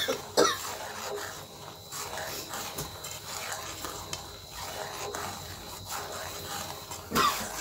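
Two sharp coughs, one near the start and one near the end, come from a woman while besan is being cooked, with soft stirring and pan noise filling the gap between them.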